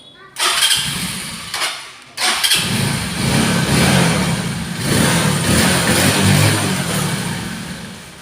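A used motorcycle is electric-started twice, each time a brief starter whir catching into a loud, close idle that settles into a steady running rumble, with a voice faintly present.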